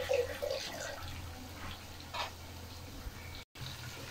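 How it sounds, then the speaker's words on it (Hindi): Water is poured into a pan holding ground onion for chicken white korma, a soft close splash and trickle with faint clinks, followed by quieter dribbling and a brief dropout. "अच्छा जी, थोड़ा सा मैंने पानी डाला इसके अंदर, क्योंकि प्याज जो ग्राइंड किया वो नीचे लग गया था"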